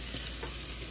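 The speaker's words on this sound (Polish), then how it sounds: "A tutaj jeszcze jajeczka się właśnie smażą do śniadanka" Breakfast eggs fry in a pan, giving a steady, moderate hiss and crackle that runs without a break.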